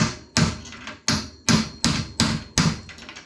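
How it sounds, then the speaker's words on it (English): A ball peen hammer drives a drift punch against a stuck part on a blue Schwinn bicycle, giving six sharp, loud metallic strikes at a steady, slightly uneven pace, each ringing briefly before the next. "we're going to take a drift and a ball peen"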